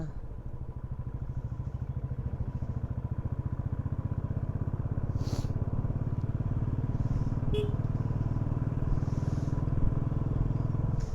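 A Royal Enfield motorcycle thumps along a winding hill road in the Kolli Hills, its single-cylinder engine giving a steady, rapid pulsing beat close up, with wind noise and a few faint distant sounds.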